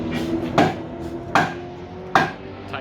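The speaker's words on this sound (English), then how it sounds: "The only tool you need, a hammer." A hammer knocks on the wheels of an old classic car, three sharp metallic strikes spaced evenly apart, loud and close with a ringing tail.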